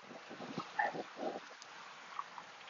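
A boat on a Venetian canal gives a low, steady hum and lapping with a breezy rush, while faint distant voices and calls drift in over it.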